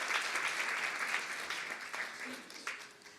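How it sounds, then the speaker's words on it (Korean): Audience applause at a 2012 university student press corps launch ceremony in Korea, a steady, dense clapping from a hall crowd that gradually thins toward the end, with faint voices mixed in. "다시 한번 감사의 박수 부탁드리겠습니다"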